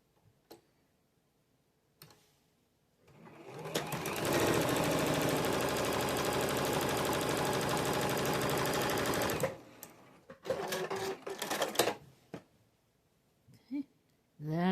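A sewing machine stitching quarter-inch seams on a beginner pinwheel nine-patch quilt block, a fast steady mechanical whir that runs for several seconds, framed by scattered ticks and handling clicks before and after.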